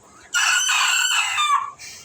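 A single rooster crows loudly and close by, one long cock-a-doodle-doo lasting about a second and a half.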